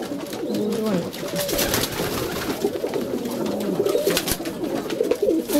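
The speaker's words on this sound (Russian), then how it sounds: "Голубочка, голубь." Pigeons coo repeatedly at close range in soft, throaty, rolling phrases, overlapping one another against a busy background of rustling and handling noise.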